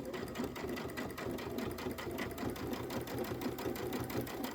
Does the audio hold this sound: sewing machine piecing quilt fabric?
yes